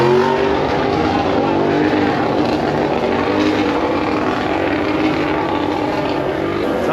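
Fabio Quartararo's MotoGP motorcycle roars past the pit boxes on a track in Indonesia while warming its tyres, a loud, sustained, close engine howl that fills the whole moment.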